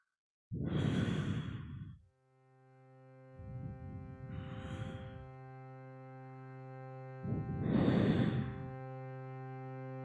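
Deep breaths taken while holding the yoga rabbit pose: three slow, close, airy exhales in a steady rhythm over soft, sustained musical tones, with no talking.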